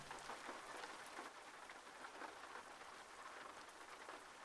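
Steady rain pours in Euro Truck Simulator 2, a dense, even hiss of drops drumming on the truck, continuous and fairly loud from start to finish with no voices.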